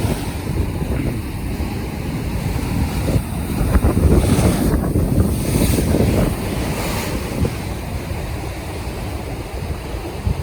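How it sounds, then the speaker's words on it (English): Surging sea water rushes and churns, with a swelling roar of a big ocean wave washing through under gusty wind noise. "There's another big wave coming through here."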